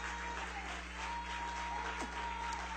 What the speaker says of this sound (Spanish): Si yo fuera a usted, aplaudiera un poquito más fuerte a eso.